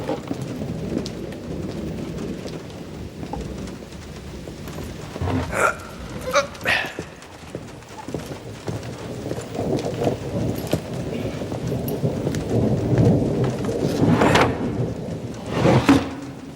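Heavy rain falls steadily throughout, with low rumbling thunder swelling at moments and a few brief sharper noises over the downpour.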